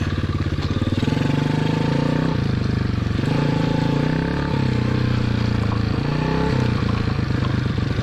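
A 2015 Motoped Pro 90cc motorized bicycle engine revs repeatedly, loud and close, its pitch climbing and dropping in several bursts over a steady rattling idle.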